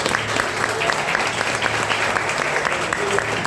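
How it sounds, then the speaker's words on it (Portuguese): A church congregation applauds during a service marking the church's second anniversary: a full, sustained roar of many hands clapping together, even and continuous throughout, with a voice faintly audible beneath. "Dê uma linda salva de palmas a Jesus Cristo."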